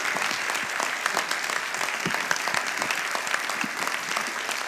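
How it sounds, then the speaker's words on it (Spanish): An audience at a language debate event bursts into sustained applause, a dense even wash of many hands clapping at once, with no talking over it. "Yo creo que ellos se merecen un aplauso."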